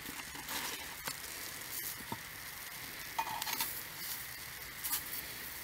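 Steady sizzling of Georgian kupati sausages in pig-intestine casings frying in a clay pan, a continuous crackle with occasional louder pops and stirring scrapes, fairly close and without speech.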